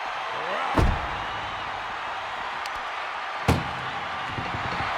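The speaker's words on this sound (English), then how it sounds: "Desperately trying to close the first of two doors." Ambulance doors slam shut twice at a wrestling match, a loud heavy bang near the start and another about three seconds later, over steady crowd noise.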